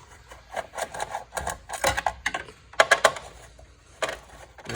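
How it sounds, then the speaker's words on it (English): Screws holding the mounting plate of a CD1500P ozone generator are worked loose by hand, giving a series of irregular close metallic scrapes, ticks and rattles in short bursts with brief pauses between. "You want to undo the 4 screws holding it down."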